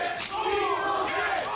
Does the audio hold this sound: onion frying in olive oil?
no